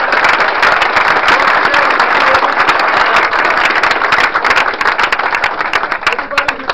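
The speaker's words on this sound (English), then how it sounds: "Give yourselves a round of applause" Room full of race runners at an Angeles Crest 100 pre-race meeting clapping for themselves, loud dense applause with sharp individual claps, sustained then tapering slightly near the end, voices faintly mixed in.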